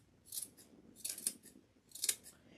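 Scissors snip trimmings from a Dollar Tree plunger craft, giving three quiet, close, crisp cuts spaced about a second apart over a soft background.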